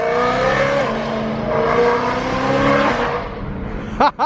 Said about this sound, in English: The car sounds obnoxiously loud.